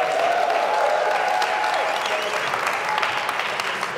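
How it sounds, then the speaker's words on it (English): A church congregation claps together during a sermon on the book of Acts, a loud, dense, steady wash of applause filling the space without letup for a few seconds. "Yeah, it's a good place to clap for Jesus"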